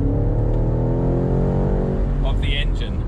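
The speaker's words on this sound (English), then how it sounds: "What an engine note that is." A BMW M8 Competition convertible with its roof down gives a loud, deep engine note, a steady rumbling drone close by that rises slightly near the end, with faint higher mechanical whine on top.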